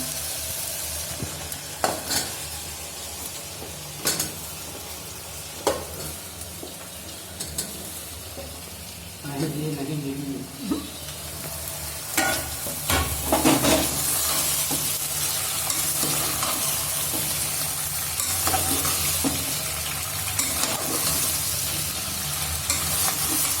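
Vegetables sizzle and fry in oil with ginger garlic paste for veg pulao, a continuous loud hiss broken by regular scraping and clinking of a spoon stirring the pan, with no talking.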